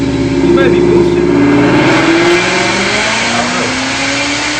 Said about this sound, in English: the car definitely sounds like it's making some kind of power